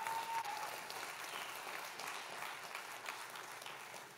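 A church congregation claps together, a steady, moderately distant patter of many hands that holds evenly, quiet overall and fading a little at the close.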